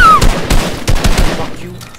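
Rapid gunfire in Fortnite: a loud, close burst of repeated shots that fades into echoing tail.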